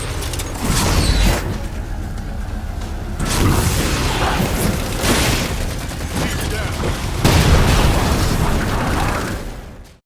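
In the Halo 4 video game, a railgun fires at Phantom dropships amid loud, continuous booming explosions and bursts of gunfire, with a voice talking over the battle noise.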